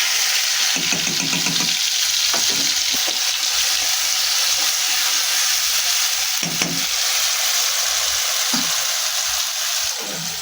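Onions fry in hot oil in a pan, giving a continuous, close, even sizzle and hiss throughout, with no talking.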